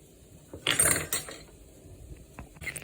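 Spoon stirring cabbage and onion raita with curd in a bowl, a few short clinks and scrapes against the bowl in quick bursts, close and fairly quiet, no talk.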